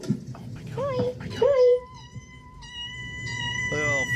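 A kitten meows in a few short, rising cries alone, with a faint high electronic tone running beneath.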